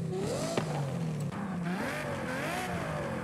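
Ferrari with a sport exhaust in Forza Horizon 5, engine droning and revving in smooth rising and falling sweeps, with a brief sharp transient early on; continuous, moderately quiet, no voices.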